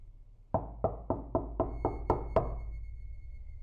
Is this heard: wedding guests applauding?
no